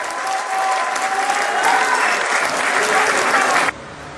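A large crowd at the All India Mushaira in Bijnor applauds poet Nawaz Deobandi, a loud, dense, sustained wash of clapping that drops off suddenly near the end.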